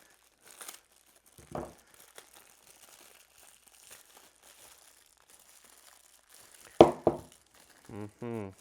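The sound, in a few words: unboxing espresso machine accessories, packaging crinkling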